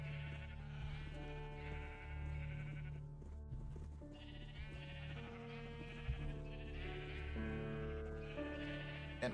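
Sheep in a video game bleat repeatedly in overlapping, drawn-out calls over a steady droning game soundtrack, with no talking.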